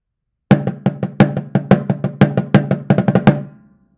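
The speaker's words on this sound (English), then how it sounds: "And when we do that, the snare drum takes on a whole different sound," A snare drum with its snares switched off sounds a quick run of roughly twenty crisp, dry, tom-like hits in an accelerating pattern, close and loud, ending with a short ringing tail, no voices.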